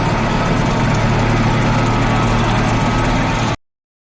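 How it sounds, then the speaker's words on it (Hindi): A tractor engine roars steadily and loudly while pushing a truck out of mud, a dense low rumble that holds constant for about three and a half seconds before cutting off abruptly. "ट्रैक्टर ने पीछे से धक्का दिया, इंजन गरजा, पहिए फिसले"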